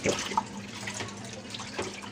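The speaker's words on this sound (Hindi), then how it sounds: "इसको एक मरतबा फिर साफ़ पानी से धोएंगे" Tripe being washed by hand in a clean vessel of clean water, soft sloshing and dripping with small splashes, close and fairly quiet.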